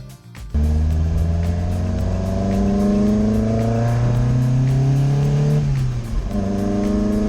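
A car sets off on a short drive back to the garage, engine catching abruptly then revving through the gears in rising sweeps with a shift dip near the end, loud and close.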